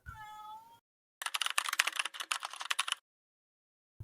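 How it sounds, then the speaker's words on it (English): A cat meows once at a door, a clear harmonic call lasting under a second, followed after a short pause by a burst of rapid clicking that sounds like keyboard typing. "The cat's meowing at the door."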